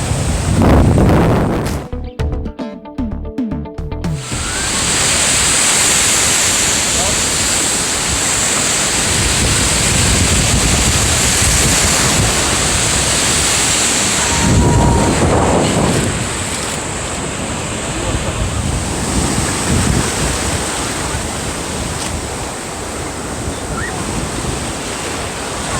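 Big ocean waves break and wash up onto the beach at Tybee Island, a steady, loud roar of surf that swells and recedes throughout, with wind buffeting the microphone and a brief burst of interference near the start.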